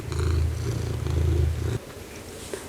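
A cat purrs close and rhythmically in two long rumbling bursts, then stops abruptly, leaving only faint room tone.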